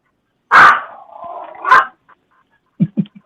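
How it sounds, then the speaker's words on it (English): A small dog barks sharply twice, the first bark stretching into a whining growl, then a couple of quick softer yips follow, close and fairly loud with silence between. "Tactical Pocket Dog's upset about something"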